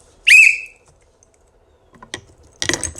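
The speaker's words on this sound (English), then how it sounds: "the reason we use this whistle" A single short, sharp whistle blast rings out near and loud at the start, followed by silence and then some faint rustling and handling noises toward the end.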